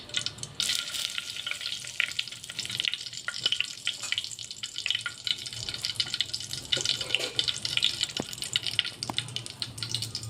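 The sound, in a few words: bay leaves frying in oil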